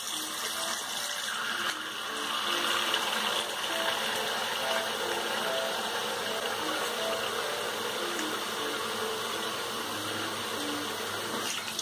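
Water running from a tap or shower while a freshly shaved head is rinsed, a steady gushing hiss with a faint pump hum, continuous and close, no one speaking.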